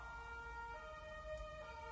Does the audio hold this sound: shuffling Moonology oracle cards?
no